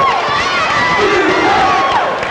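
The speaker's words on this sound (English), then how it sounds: "Still being rattled a little bit perhaps by the cheering of NC State." A college basketball arena crowd roars continuously for NC State during a 1982 game against North Carolina, a loud, dense wall of cheering and voices with a faint whistle-like tone rising above it.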